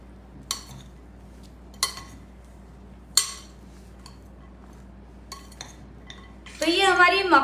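A spoon clinks against a bowl while makhana chaat is mixed: three sharp, close clinks spaced about a second apart, then a few softer taps, with a voice briefly speaking at the end.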